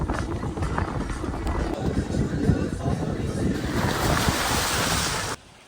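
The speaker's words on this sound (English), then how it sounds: "Very windy though." Strong wind gusting outdoors at a remote backroad spot in cold weather, a constant loud roar buffeting the microphone, close and unbroken until it cuts off abruptly at the end.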